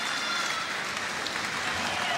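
A crowd applauding at the Giants Live Viking Power Challenge strongman competition, steady clapping and cheering that fills the space while a commentator talks over it.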